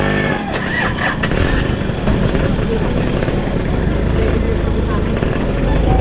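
A 27-year-old motorcycle's engine runs steadily close by, a continuous rumble with people talking over it throughout.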